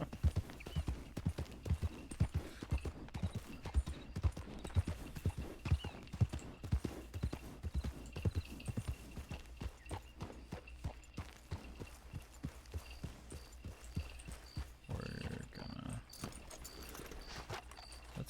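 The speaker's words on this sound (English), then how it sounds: "rhythmic clopping of hooves from one town to another" Horse hooves clop steadily during a ride in the video game RedM WildRP. The rhythmic footfalls are faint and quick and fade toward the end under a low ambient bed.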